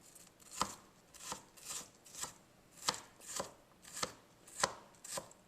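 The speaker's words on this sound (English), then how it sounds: "So just gonna cut off a few little pieces here." A knife chops onion into fine bits on a cutting board for an omelette, with eight evenly spaced crisp cuts in a steady rhythm, close and clear with no talking.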